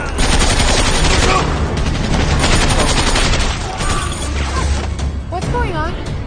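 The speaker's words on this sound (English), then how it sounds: "who's shooting?" Loud, dense gunfire rattles in continuous rapid bursts, overlapping with shouting voices and crashing noise.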